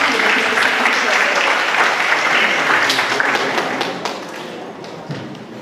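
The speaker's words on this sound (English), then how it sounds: "Let us give a big applause" An audience at a discussion event on Indonesia–South Korea relations breaks into loud, dense applause that stays strong, then thins and fades to scattered claps near the end.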